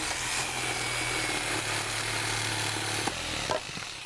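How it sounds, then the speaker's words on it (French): A jigsaw cuts wooden shelf boards in a steady, loud buzzing drone that holds throughout, with a brief jolt and change in tone near the end. "vais t'apprendre à te servir d'une scie sauteuse pour couper les planches de l'étagère que nous devons construire"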